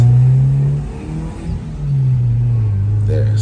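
A 1996 Honda Civic VTi with a PH16A engine revs and pulls hard, its loud mid-pitched engine note rising, dipping briefly as it shifts, then climbing again close up.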